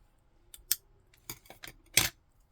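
Scissors snip through paper to cut the tail off a small paper fish for a Christmas papercraft card, several quick close crisp cuts in an otherwise quiet room.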